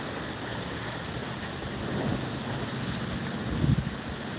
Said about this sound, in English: They accelerated the boat a little bit, or the wind took them up.